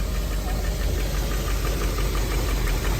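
Rolls-Royce engine idling roughly on only three cylinders, a steady, loud, uneven mechanical chug with a knocking throb running continuously and no voices.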